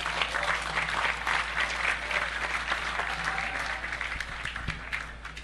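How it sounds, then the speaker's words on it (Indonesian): An audience at an evening Islamic study and discussion gathering applauds a guest with steady, dense clapping that fills the whole stretch and does not let up. "Saya minta tepuk tangan untuk Ibu Lili Wahid"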